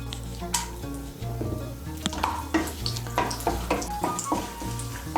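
A bay leaf and whole garam masala of cardamom, cloves and a cinnamon piece frying in hot oil for Bengali duck egg curry, with steady close sizzling and crackling broken by stirring scrapes against the pan.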